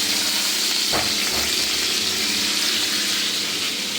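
Onions fry in hot oil with cumin, making a loud, dense, steady hiss close up, with a brief stirring scrape near the start.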